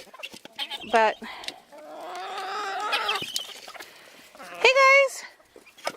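Chickens and guinea fowl cluck and squawk as they run out of a farmyard coop, with bursts of loud calls over a rustling background, while a person talks throughout.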